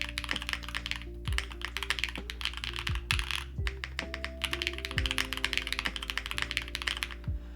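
Steady, close typing on a Mode SixtyFive mechanical keyboard with mixed keycaps, a quick run of crisp clacks and deeper thocks that pauses briefly now and then.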